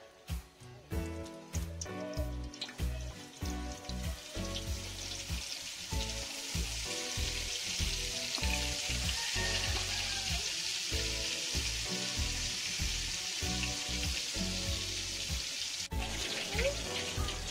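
Cooking oil and Star margarine hit a hot wok and crackle, starting as sputtering bursts and settling into a steady, close sizzle that runs throughout, with no talking.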